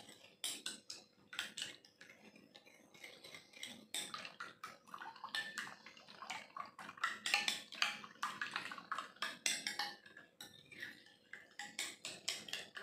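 Eggs whisked by hand in a bowl, a quick, uneven run of light metallic clinks and scrapes, quiet and close, with a faint background hum.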